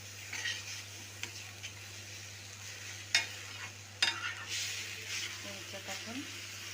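Mango pulp is stirred into a barfi mixture in a pan, with a spoon scraping and tapping against the metal in uneven strokes over a soft sizzle. A voice talks quietly underneath.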